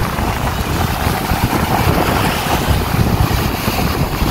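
Strong wind buffets the microphone in a steady roar on a summer outing in Japan, with water or surf churning underneath, loud and constant, no talking.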